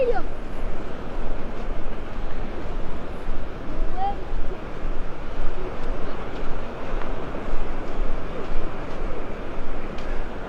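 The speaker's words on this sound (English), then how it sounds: "listening to the waves, the gentle wave sounds this morning" Gentle surf laps the shore on a morning beach in North Naples, Florida, at low tide, a soft continuous wash of small waves with faint wind rumble, steady and unbroken.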